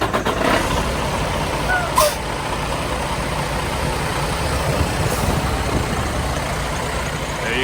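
A Freightliner Cascadia truck engine being started after a coolant tank repair, then settling into a steady diesel idle with a brief air hiss, heard close with someone speaking briefly.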